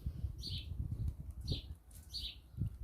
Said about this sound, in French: Vous entendez des oiseaux.